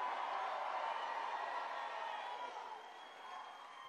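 At a Trump town hall in the Pennsylvania suburbs, a large indoor crowd sends up a dense, continuous roar of cheering that eases off slightly toward the end.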